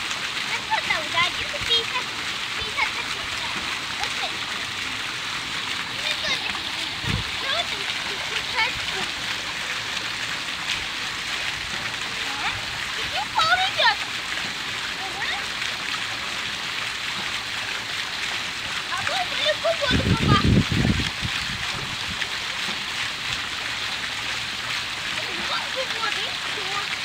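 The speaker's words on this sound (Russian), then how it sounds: "приятный звук воды" Water splashes steadily in a park in Odesa, a continuous hiss like a fountain or stream. Voices are heard faintly now and then.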